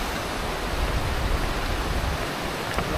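A Bataan river rushing strongly near taro fields, a loud, dense and continuous roar of fast-moving water with no breaks and no voices.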